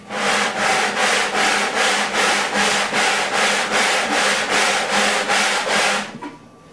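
Wooden guitar sides rubbed back and forth on sandpaper to set the neck angle, about a dozen loud, even rasping strokes in a steady rhythm, close by and alone, stopping near the end.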